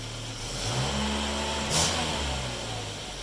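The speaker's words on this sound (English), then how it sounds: "Rev it." A Volvo 240 engine revs after an exhaust repair using clamps, with a slight leak at one clamp, giving a low rumbling rise and fall of engine note, close and moderate, heard on its own.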